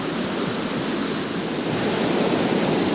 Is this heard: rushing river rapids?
yes